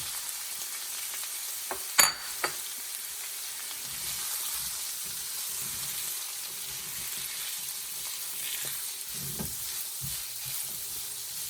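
Meat sizzling in a stir fry pan for a quick family dinner, a steady hiss after a sharp clank, with occasional soft stirring and utensil knocks throughout.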